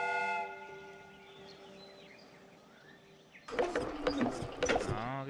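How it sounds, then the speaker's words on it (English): A steam whistle blows in a Sherlock Holmes video game, used on a replica train: a sustained harmonic whistle tone fades over several seconds, then a loud, hissing steam burst with clattering noise takes over. "The steam whistle is ready to be used."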